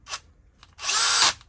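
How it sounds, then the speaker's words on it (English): A Bosch power drill whirs in two bursts: a brief spin-up followed by a longer, steady run of about half a second, close and loud, with no talking. "This drill, the Bosch,"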